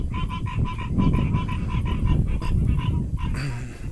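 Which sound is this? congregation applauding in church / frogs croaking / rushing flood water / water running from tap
frogs croaking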